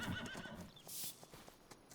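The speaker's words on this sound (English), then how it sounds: "I'm quickly going to ride our horses before I forget" A horse in Farming Simulator 25 gives a short whinny over soft clip-clopping hooves, then the hooves tap on lightly at close range.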